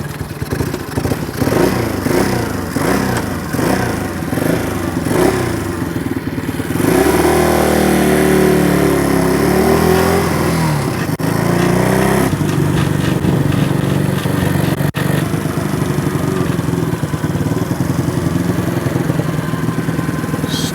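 A motorcycle that had sat in storage for years is started, its engine catching around seven seconds in and then running at a steady, loud idle close by, with a brief earlier stretch of cranking and clatter.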